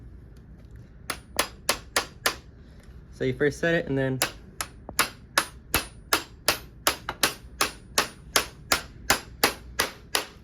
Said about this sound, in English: So it's kind of like a nail where you just set it right there and then hammer it.